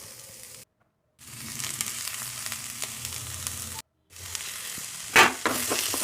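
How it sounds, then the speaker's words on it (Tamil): Small onions, dried red chillies and curry leaves sizzle steadily in hot oil in a pan while being sautéed, a close, crackling fry with two brief silent gaps and a few sharp stirring clatters near the end. "இதெல்லாம் சேர்த்து நல்லா வதக்கிக்கலாம்."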